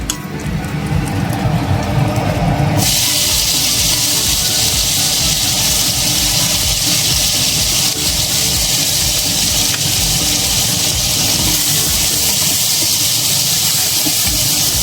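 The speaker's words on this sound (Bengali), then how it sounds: "এটাতে আমি নুন হলুদ মাখিয়ে নিয়েছি এবার এইগুলো ভেজে নেব" About 150 grams of shrimp coated in salt and turmeric fry in hot oil, giving a loud, steady broadband sizzle that swells sharply after a quieter start and holds without a break.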